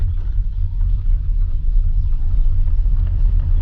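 Car interior on a town main road after turning off a local lane, with a steady loud low engine and road rumble throughout and no talking.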